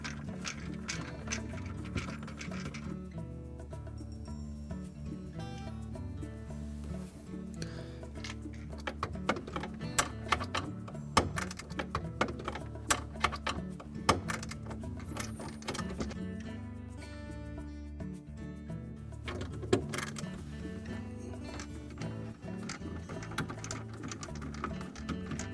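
A driver loosens quarter-inch hex head screws holding a Whirlpool refrigerator ice maker to the side wall, giving irregular runs of ratcheting clicks and light metallic ticks close up, without talk.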